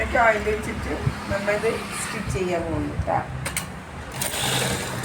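A sewing machine stitching the pieces of a six-piece churidar top, giving a steady mechanical whir that runs under a woman's speech throughout.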